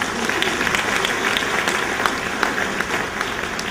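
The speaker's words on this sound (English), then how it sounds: "Please give them another round of applause." Banquet audience at a district governor's dinner breaks into steady applause, dense clapping from many hands that holds evenly throughout, with a faint murmur of voices beneath.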